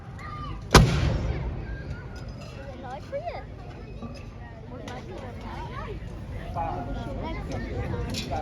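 An artillery gun fires one sharp, loud report that rings out over an open outdoor Armed Forces Day crowd, followed by a murmur of distant voices and background chatter.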